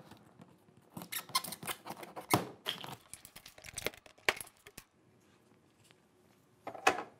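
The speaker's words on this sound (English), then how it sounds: "So you're just gonna wanna use your utility knife and just cut these straps off." A utility knife cuts the straps on a carbonator unit's box, giving a few sharp snaps and scrapes among crinkling plastic and cardboard handling, close and fairly quiet with pauses between bursts.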